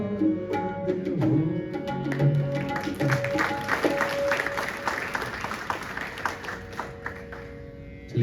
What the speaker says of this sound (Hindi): चलिए, तालियां तो बजा दी आपने।